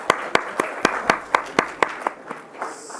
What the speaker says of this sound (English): So let us give a big round of applause to Dr.